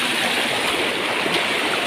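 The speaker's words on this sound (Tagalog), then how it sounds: "Merong falls." A waterfall in Negros Occidental rushes in a steady, loud, broadband roar of falling water, close and unbroken, with no voices over it.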